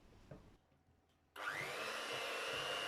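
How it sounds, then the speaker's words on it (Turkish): Cream and labneh are whipped for tiramisu: after a quiet start, an electric mixer switches on and runs with a loud, steady whirring whine to the end. "Şimdi ne kadar çok çırparsak kremamız o kadar güzel olacaktır."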